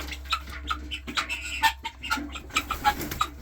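Baby chicks chirp in quick, high, repeated peeps scattered throughout, fairly close, over a steady low hum in the background.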